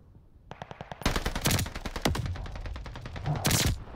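Fully automatic fire from the SDG rifle in Call of Duty Vanguard multiplayer, a quick run of sharp shots that swells into a loud, sustained rattle with brief pauses between bursts.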